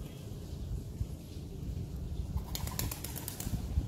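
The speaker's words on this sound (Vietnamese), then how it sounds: "Những con chim bồ câu nó mới bay các bạn" Pigeons bursting into flight at a Khmer temple in Bạc Liêu, Vietnam: a quick flurry of flapping wings over steady outdoor ambience, moderately close and without speech.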